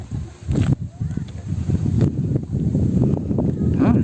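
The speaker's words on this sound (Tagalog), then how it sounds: "Lakas ang hangin." Gusty wind rumbles and buffets the microphone in low, uneven bursts, with voices talking intermittently underneath, during a Yamaha NMAX V2 scooter ride in Mapita, Aguilar, Pangasinan.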